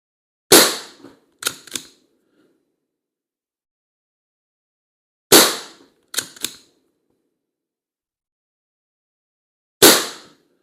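Several sharp, loud cracks from an SMK Victory CP2 .177 CO2 air rifle with a long barrel, some followed by quick metallic clicks, separated by long silences; close and isolated with no talking.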